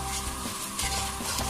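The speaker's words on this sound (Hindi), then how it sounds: "इस मसाले को अच्छे से भूनना है" Masala with salt and herbs roasting in a pan for chicken karahi gives a steady, close sizzle with soft scraping, continuous and even throughout the short moment.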